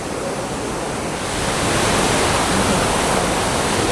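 Waterfall in the Moroccan mountain village of Imlil splashing and rushing steadily, a dense broadband roar up close that swells slightly louder partway through, with no voices.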